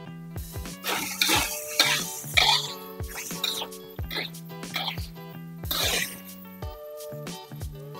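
Seasoning with mushroom flavouring sizzles as it is stir-fried in a pan for steamed coconut rice, with scraping spatula clatter and clanks in an uneven rhythm, under occasional talk.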